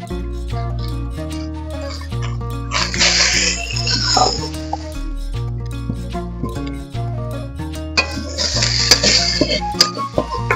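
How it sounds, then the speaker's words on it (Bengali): Cooked Bengali chorchori is scraped from a pan into a bowl in two noisy bursts of metal scraping and clinking, set against loud, steady background music with no speech. "এখন আমি চচ্চড়িটা গামলাতে ঢেলে নিচ্ছি।"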